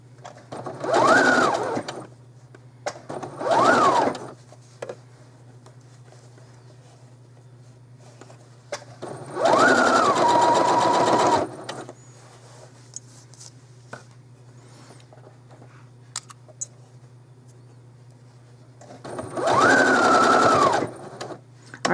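Sewing machine stitching white and yellow trim onto curtains, running in four separate bursts of steady mechanical whirring with short pauses between them, close and alone.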